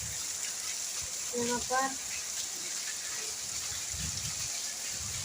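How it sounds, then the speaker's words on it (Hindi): Heavy rain pouring down outdoors in a rural farm setting, a steady broadband wash of falling water throughout, with someone speaking briefly over it. "और पानी बहुत तेज़ी से गिर रहा है देखिए दोस्तों"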